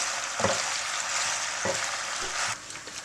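Pasta stirred in a frying pan with curry chicken, a steady soft sizzle running throughout with a few brief scraping knocks of the spoon against the pan, close by and without speech.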